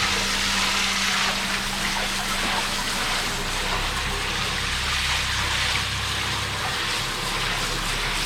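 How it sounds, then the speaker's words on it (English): Water running and splashing steadily while a hydro-dipped Volkswagen Caddy van engine cover is washed of old PVA glue, a continuous broadband rush close by with a low hum underneath and no talking. "Give it a wash, get the old PVA glue off."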